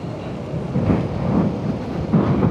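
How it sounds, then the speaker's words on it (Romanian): Wind buffets a motorcycle rider's microphone on a London road near Custom House Station, a steady low roaring rumble that swells in gusts, with no voices. "Bă, ce suflă vântul."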